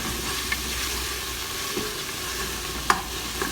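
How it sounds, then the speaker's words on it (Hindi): Green masala with ginger garlic paste frying in a pan for a beef bhindi curry, a steady soft sizzle throughout with a few faint stirring clicks and taps, no voices. "हमने हरा मसाला डाला है और इसको अब हम फ्राई कर रहे हैं"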